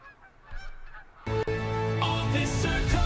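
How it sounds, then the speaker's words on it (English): Gold snow goose honking in theHunter Call of the Wild, a quiet lead-in followed by loud, sustained, layered goose calls with no voices. "are you a gold snow goose"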